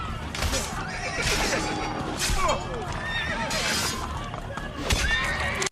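Horse whinnies and neighs over steady hoof clip-clop in Assassin's Creed Brotherhood, with a speaking voice and busy game sound throughout, the neighs standing out loud and near several times.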